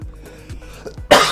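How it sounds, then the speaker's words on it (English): A single sharp cough bursts out near the end of a quiet stretch of low room sound, loud and close, during a live editing session. "Excuse the cough there."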